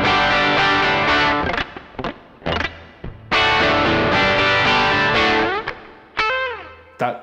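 Electric guitar played through a Tech 21 RK5 Richie Kotzen Flyrig with the volume fully up, giving loud, distorted chords and riffs with sharp stops and a sliding bend near the end, heard alone without talk.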